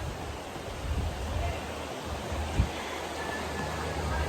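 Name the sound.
rain falling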